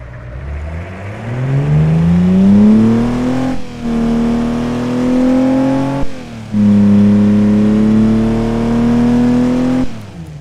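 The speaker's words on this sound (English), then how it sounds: "it sounds like an actual engine." A poorly built custom car in the BeamNG driving game revs loudly up and down in three long sweeping pulls, each rising in pitch and then cutting off briefly before the next, close and alone.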